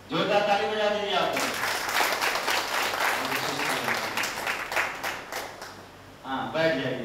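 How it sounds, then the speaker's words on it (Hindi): Group applause from a room of participants in an exercise or practice session, steady loud clapping running for several seconds, with voices talking over the start and end. "जोरदार ताली बजा दीजिए आप।"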